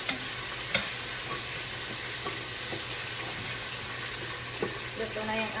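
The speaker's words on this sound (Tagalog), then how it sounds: "Pa-fry na natin yung ating eggplant." Eggplant frying in a pan, a steady close sizzle with faint clicks of stirring and occasional sharper spits, with a voice talking softly underneath.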